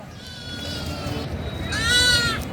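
A goat bleats at a busy cattle market in Kishoreganj, two wavering cries, the second louder, over a background of crowd noise and people talking.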